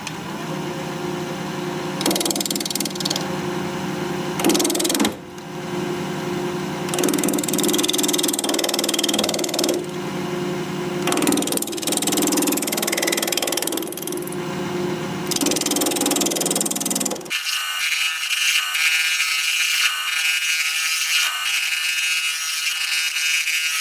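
Wood lathe spinning at 1200 RPM as a 1/2 inch bowl gouge cuts a small piece, a steady motor whine with scraping, rasping bursts of the tool on and off, ending in a clean, bare motor hum.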